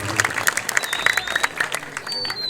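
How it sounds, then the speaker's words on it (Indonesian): Audience clapping for young performers at a Balinese Calonarang show held at a Pura Dalem temple, a brisk burst of many hands with voices talking over it. "Beri tepuk tangan dong untuk kreativitas anak-anak muda kita."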